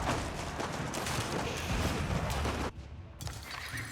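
Cannon emplacements fire in a strategy video game, a dense run of booming shots and rumbling impacts for nearly three seconds, then a sudden drop to quieter battle noise with a few scattered bursts.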